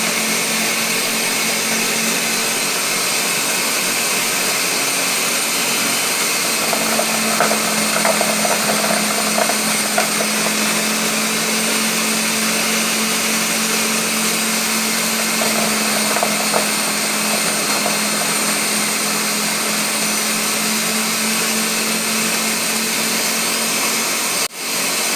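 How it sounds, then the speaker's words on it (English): A blender runs on low, blending yucca for vegan pasteles, with a steady, loud whine and hum that holds for the whole stretch, light clatter midway, and a sudden stop at the end. "So I'm going to start the blender, and I'm going to put it on low."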